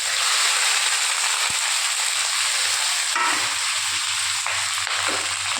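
Onions go into hot oil along with whole cumin, cloves and garlic, raising a loud, steady sizzle and hiss that runs unbroken, with a few soft stirring scrapes partway through and no talking.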